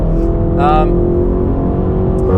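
A 700+ hp BMW M8 Competition engine drones steadily and loudly from inside the car, a continuous tonal hum with a brief rising whine, while a voice speaks over it.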